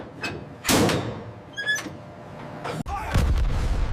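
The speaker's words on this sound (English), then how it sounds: "A 120mm training round is loaded into the breech." A 120mm training round loaded into the breech of an M1 Abrams tank: heavy metallic clanks and a sliding, slamming breech sound, followed by a sharp thud, close and loud.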